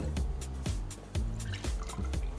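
Cocchi Americano poured into a glass for a highball, a wet trickle and splash in uneven pulses, close and moderately loud with no talking.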